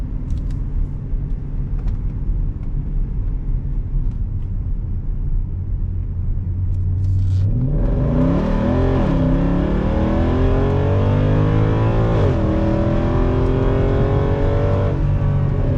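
A 2008 Mercedes-Benz ML63 AMG accelerates hard up a steep hill: a low cabin rumble gives way to a loud, rising engine roar that climbs through gear changes, heard from inside the car.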